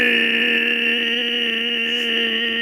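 A person vocally mimics a dial-up modem connecting, holding steady buzzing, whining tones for nearly three seconds at a loud, close level before cutting off abruptly.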